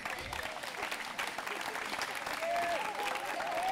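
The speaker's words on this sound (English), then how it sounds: "let's give them a round of applause" An audience at a college dance performance at a festival breaks into a round of applause, dense clapping that swells toward the end, with a voice speaking over it.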